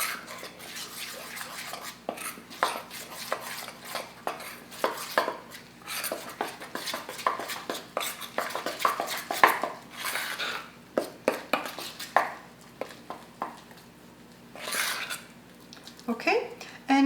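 A spoon stirs sourdough starter in a container with irregular scraping, tapping and clinking, the bursts rising and falling over a long stretch under light background sounds.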